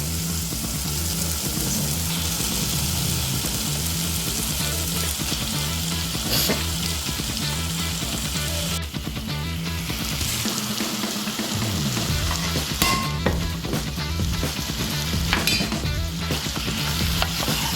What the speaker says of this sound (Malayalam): ഇനി നമുക്ക് നമ്മളെ ചിക്കൻ ഓരോന്നായിട്ട് ഇതിലോട്ട് ഇടാം.